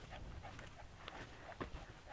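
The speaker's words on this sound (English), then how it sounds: "And she's panting a little bit." A dog pants softly and quickly in short breaths, close but quiet, with a faint whimper-like catch near the end and no clear talking.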